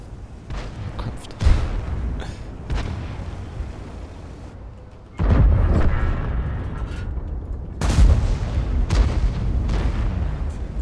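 Tank cannon fire in World of Tanks, featuring an Object 780, with several heavy booming shots spaced seconds apart over a continuous rumbling battle background.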